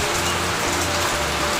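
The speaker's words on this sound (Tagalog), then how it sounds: "dito tayo sa labas at habang umuulan" Rain pours steadily outside, a dense, even hiss of drops on surfaces that fills the short clip with no talking.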